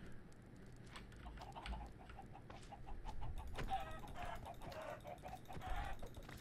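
Minecraft chickens clucking in short, repeated calls near and far, with a steady background hum and game effects layered over the scene.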